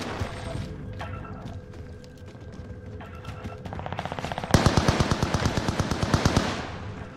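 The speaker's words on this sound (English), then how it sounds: "Why is the shooting happening?" Gunfire in the video game Call of Duty: Warzone: scattered shots at first, then a loud, rapid automatic burst of evenly spaced shots lasting several seconds, with no talk over it.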